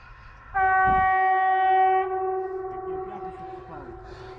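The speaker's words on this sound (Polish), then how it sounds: "O, jedzie lokomotywa." A locomotive sounds a loud, sustained horn blast as it passes nearby, the chord holding for about a second and a half before fading, with rolling rail rumble beneath.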